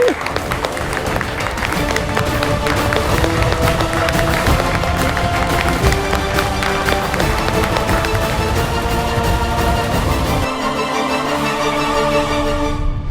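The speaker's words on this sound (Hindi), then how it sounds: "तालियां भाई" Dense applause and cheering from a crowd at an engagement announcement, loud and sustained throughout. Music plays beneath it and grows more prominent near the end.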